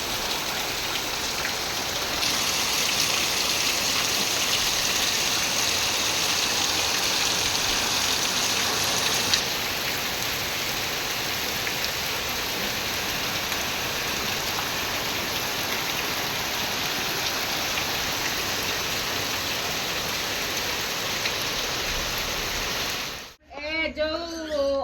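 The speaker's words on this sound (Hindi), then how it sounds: "3 दिन है वर्षा है" Heavy monsoon rain pours steadily for nearly the whole stretch, a dense, loud hiss of drops on surfaces, ending abruptly with a brief faint voice right at the close.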